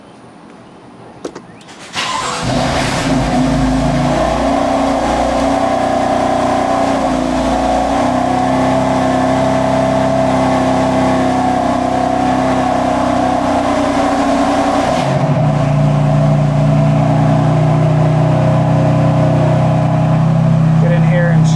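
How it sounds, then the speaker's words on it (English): A car engine, just drained of oil, turns over and catches at about two seconds, then settles into a loud, steady idle that deepens slightly near the end. "we're gonna start the car for the first time after draining the oil"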